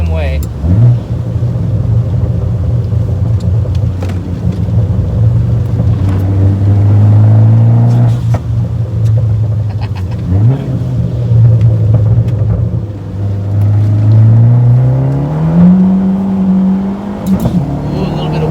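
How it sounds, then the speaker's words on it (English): A Fiat 500 Abarth's engine revs hard and steadily as it accelerates with wheel spin, its pitch climbing, with wind buffeting the microphone and occasional voices. "a little bit of wheel spin"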